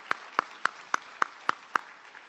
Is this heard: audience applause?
yes